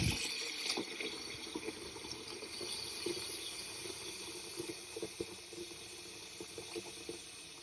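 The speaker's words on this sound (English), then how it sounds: "I'm going to start putting some lukewarm to cold water in here." Lukewarm to cold water runs steadily into a basin being filled for wet blocking a knitted sweater, a soft continuous trickle and splash, fairly faint, with no one talking.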